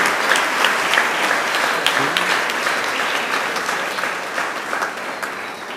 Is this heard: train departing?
no